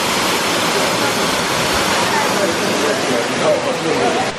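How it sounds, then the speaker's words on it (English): A waterfall in St. Lucia pours down in a loud, steady broadband rush that holds without a break, with no clear speech above it. "We made it to our next stop, which is a waterfall."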